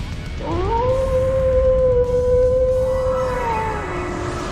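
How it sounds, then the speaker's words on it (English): A wolf's long, sustained howl from the video game Trails into Reverie, loud and close, rising at the start and holding a steady pitch for several seconds before falling away, heard alone with no talk. "Did that howl cancel out the artifact's power?"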